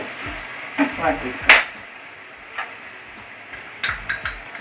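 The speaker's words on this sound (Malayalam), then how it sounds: "നമ്മുടെ രണ്ട് നെയ്യിൽ നന്നായി ചെന്ത് വന്നിട്ടുണ്ട് ഇനി നമുക്ക് ഇതിലേക്ക് പഞ്ചസാര ഏലക്കപ്പൊടി ഇട്ടിട്ട് നന്നായി ഒന്നും കൂടി" A spoon stirs and scrapes sugar and cardamom powder into ghee-fried banana bread in a pan, giving soft, quiet sizzling with a few brief scraping clicks.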